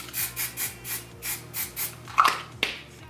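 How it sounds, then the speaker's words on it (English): Hairspray is sprayed in a series of short, evenly spaced hisses over freshly curled hair, close and fairly loud, with a couple of sharper clicks near the end. "Go through in with my hairspray."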